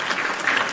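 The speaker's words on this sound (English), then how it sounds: "So round of applause, ladies and gentlemen" A live show audience gives a round of applause, dense, steady clapping that carries on evenly throughout.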